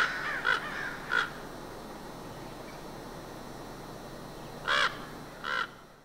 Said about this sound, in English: As more and more crows came, his calls got louder and deeper.